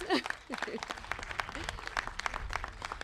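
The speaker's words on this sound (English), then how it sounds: "let's give him a round of applause" Scattered, fairly quiet hand claps from a small audience at a Democratic political meeting in Oakland, uneven and somewhat distant, with a voice briefly at the start.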